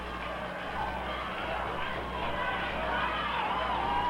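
Wrestling arena crowd in 1977 Portland, a steady loud roar of many voices filling the hall, rising slightly toward the end, with a commentator talking over it.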